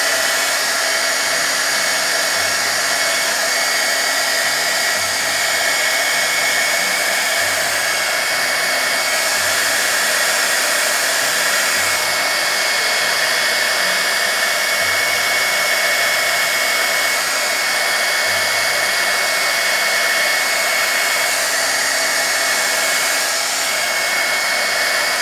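Hair dryer blowing steadily on resin with pigment paste, a loud close continuous whine and rush of air that holds unbroken throughout with no talking.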